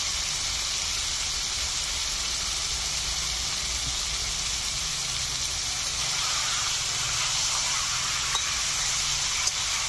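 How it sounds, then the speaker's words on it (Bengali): Desi chicken meat with cumin powder sautés in a pan, a constant close sizzle and soft hiss running evenly with faint stirring scrapes underneath and no talk. "মাংসটা ভালো করে কষে নিচ্ছি"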